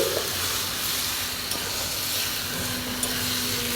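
Pointed gourd, shrimp and potato sauté together in a spice masala, giving a steady close sizzle with faint stirring throughout and no talk.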